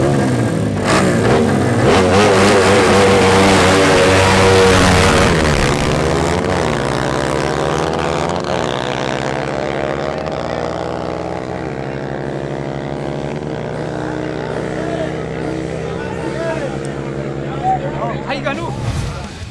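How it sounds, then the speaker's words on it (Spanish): Drag race between an AKT NKD motorcycle fitted with a Pulsar NS200 engine and a rival bike: loud engines roar hard at launch, then settle into a sustained high whine that gradually fades as they pull away. "En el siguiente duelo se enfrentan una AKTM KD con motor de Pulsar NS200 de nombre La Gorila versus una moto conocida como La Humilde."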